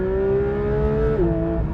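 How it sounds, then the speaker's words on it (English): Porsche 718 Cayman GT4 RS engine pulls from low revs in second gear, a loud steady harmonic tone climbing gently, then dipping briefly near the end as the pitch shifts. "get it into second gear, low revs, put my foot down, and it's picking up gradually"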